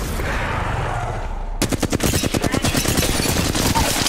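Rapid automatic gunfire in the video game Apex Legends, loud and close, as a fast rhythmic string of shots that starts abruptly after a second and a half of quieter ambience.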